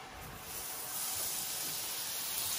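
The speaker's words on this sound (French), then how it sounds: "Un bon morceau de beurre dans notre poêle." Butter sizzling in a frying pan, heated ahead of adding onions for a pan-sautéed potato side to rump steak with thyme sauce; a steady, fairly quiet hiss that continues without a break.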